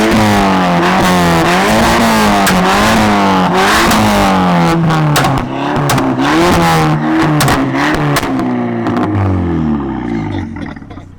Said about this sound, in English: Give us some pops and bangs